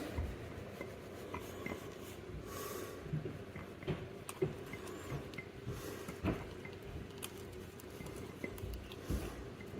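Sourdough starter being stirred into flour in a container, a soft close scraping and rubbing with small irregular clicks of the utensil against the sides, steady and quiet with no talk.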